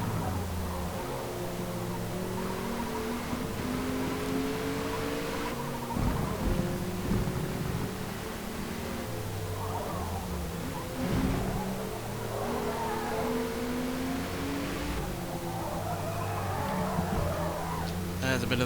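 A race car in Forza Motorsport drives hard through corners, engine revving and shifting continuously with bursts of tire squeal as the rear steps out in oversteer, a voice talking over it throughout.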